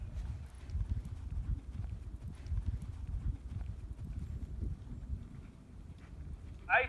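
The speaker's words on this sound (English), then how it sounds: "So now I'm going to pick up a canter." A horse cantering through a flying lead change, its hoofbeats thudding in a steady low rhythm under ongoing talk, with a brief louder sound at the very end.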